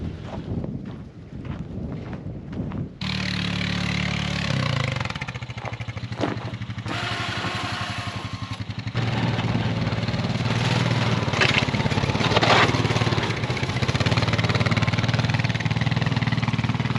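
Honda Foreman 500 ATV engine running steadily up close, a loud continuous rumble that deepens and strengthens partway through as it revs, with wind buffeting the microphone and no talk.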